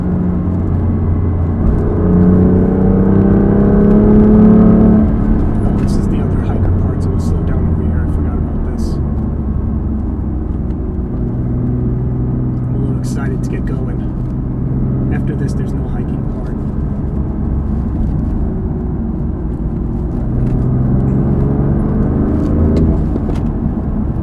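BMW F80 M3 in M2 mode pulling hard from inside the cabin, the engine note climbing through gears with steady rumble and whine, a driver talking over it at times.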